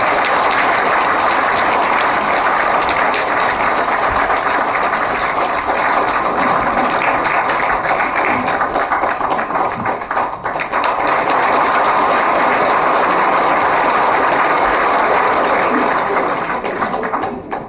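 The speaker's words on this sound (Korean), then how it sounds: "박수로 맞이해 주시기 바랍니다." Sustained applause from an audience at a book launch lecture welcomes the author to the stage. The clapping is dense and loud, runs steadily for many seconds, dips briefly near the middle and fades away at the end.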